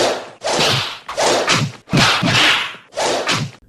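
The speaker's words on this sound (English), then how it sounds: "that's more fun with Kung Fu sounds" Kung fu fight sound effects come as a rapid series of five or six loud swishing whooshes, each ending in a slapping hit, delivered in quick rhythmic succession with no talking.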